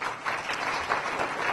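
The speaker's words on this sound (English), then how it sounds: "give them a big round of applause for all their efforts" Steady applause from an audience at a school district awards program, a dense, continuous patter of many hands clapping throughout, fairly loud and even.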